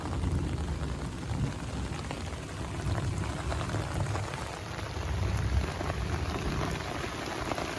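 Dense, steady heavy rain patters on a camping tent, a close, even hiss of drops with no voices.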